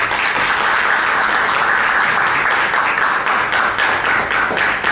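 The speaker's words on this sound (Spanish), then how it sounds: "para quien pido también un fuerte aplauso" Loud, sustained audience applause at a Spanish-language talk event, a thick continuous roar of clapping hands close to the listener with no break.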